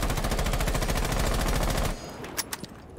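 Rapid automatic gunfire in a competitive shooter game rattles out as a loud, fast, even burst for about two seconds, then stops, leaving a few scattered clicks and thuds.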